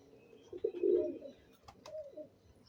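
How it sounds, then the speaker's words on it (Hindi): Soft, low cooing from Vaishi pigeons close by, a couple of throaty rolling calls in a quiet setting. "ये वैशी कबूतर थे"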